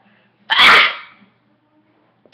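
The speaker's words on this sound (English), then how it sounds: "That's how I sneeze." A single loud, explosive sneeze bursts out close by, followed by quiet, then a faint brief sound at the very end.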